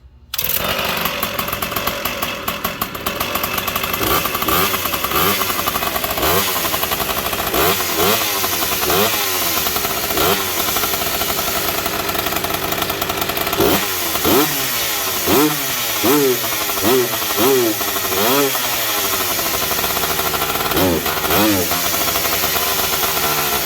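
A McCulloch PM700 chainsaw running just after its first start, with a loud, close two-stroke engine droning continuously and revving up and down in repeated surges, sounding a little rough and fuel-starved.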